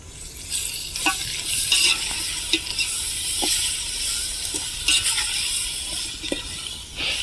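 Ginger and garlic sautéing in oil in a large pot for a 1 kg village-style chicken biryani, with a broad loud sizzle and occasional stirring clanks, close and continuous.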